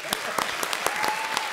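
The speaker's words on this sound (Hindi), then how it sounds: "एक बार जोरदार तालियां।" A studio audience at a Hindi comedy show claps briskly, with dense applause and distinct sharp claps on top, fairly loud and close, alongside some voices.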